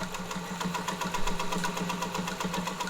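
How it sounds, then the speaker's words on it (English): A Singer 201K sewing machine runs at steady speed, its needle mechanism ticking in a fast, even rhythm over a soft motor hum, quiet and close with no voices. "one of the quietest sewing machines ever built"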